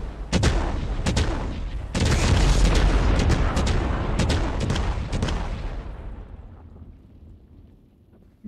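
Sharp booming firework blasts in a video game crackle in quick succession, then a long rumbling roar that slowly fades away, loud and close, with no talk.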